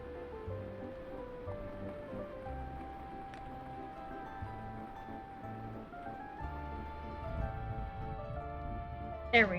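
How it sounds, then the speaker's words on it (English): Steady rain ambience from the farming game Fields of Mistria, a soft continuous patter with light music-like tones layered over it, held at a moderate level throughout. "Okay, I'm gonna turn the rain down a little bit."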